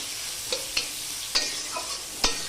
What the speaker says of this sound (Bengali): এবার আমি পেঁয়াজটাকে হালকা করে ভাজা করে নিচ্ছি।